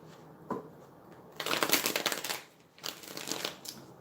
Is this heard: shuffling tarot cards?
yes